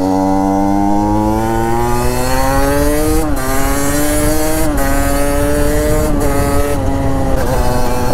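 A restored Derbi 50 DRD Pro motorcycle's small two-stroke engine runs loud and close, holding a buzzing idle and then revving up in several short rising blips that each drop back.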